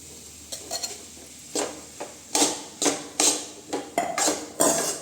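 Tomato rice gets stirred in a pan, with a series of distinct spoon scrapes and knocks against the metal, about eight strokes at an uneven rhythm, close and moderately loud with no talk.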